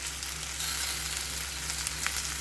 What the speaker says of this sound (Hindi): अब इसमें हम ऐड करेंगे प्याज जो हमने रफली चॉप कर लिया है